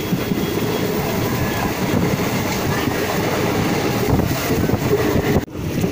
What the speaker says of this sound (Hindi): हमारी इनॉग्रेशन स्पेशल ट्रेन अपनी पूरी रफ्तार में